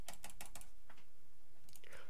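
Quick dry clicks come in a brisk run of about four, then a few more scattered ones, close by and fairly quiet. The sound fits a computer mouse being clicked, or keys being tapped.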